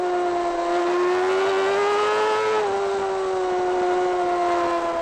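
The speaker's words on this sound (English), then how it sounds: "just listen to that Suzuki roar as it just spins up the rear tyres" A Suzuki race car's engine roars at sustained high revs with a strong steady tone that dips briefly and recovers as the rear tyres spin up on a race circuit, loud and close with no talk over it.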